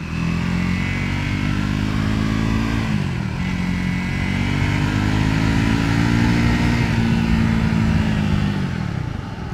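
Triumph Scrambler 400x motorcycle being ridden, its engine droning loudly and steadily up close, with a gear change around three seconds and another dip near the end as revs fall and climb.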